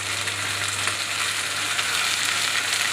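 Capsicum, carrot and beans sauté in a hot pan with a loud, continuous sizzle as they are stirred, close up and with no voices.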